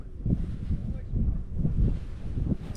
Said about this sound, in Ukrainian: З цієї сторони трішки буде, напевно, шумно, вітер якраз в лице.